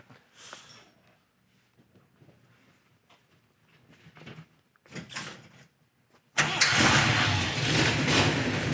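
A 1969 Dodge Daytona's Mopar V8 cranks with a few faint clicks and a brief whir, then fires and roars into a loud, rough, continuous idle close by.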